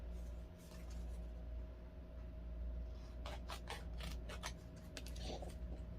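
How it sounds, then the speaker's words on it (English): Scissors snip corners off a small paper tag in a papercraft session: a quick run of crisp, close cuts in the second half over a steady low hum. "this little tag, cut corners off again."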